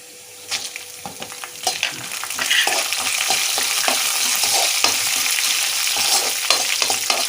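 Green chilies frying in hot oil for lemon pulihora, a steady close sizzle with frequent sharp crackles and pops as a spoon stirs the pan, with no voices.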